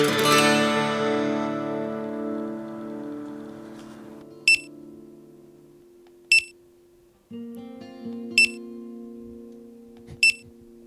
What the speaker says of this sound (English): the square card reader we had.